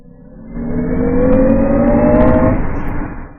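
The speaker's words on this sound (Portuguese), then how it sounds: "já medindo 0 a 100, só para a gente ter ideia do que são esses 400 cavalos em ação em um SUV desse tamanho" A 2022 Jaguar I-Pace EV400 HSE electric SUV accelerating hard from a standstill toward 100 km/h, with a rising whine and road roar that swell over a few seconds and then fade, heard from inside the cabin without talk.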